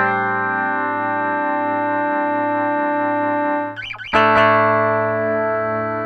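A sustained, effect-laden electric guitar chord rings through a Meris LVX delay pedal with feedback hold, with a brief burst of picked notes near the middle before the repeating wash swells back.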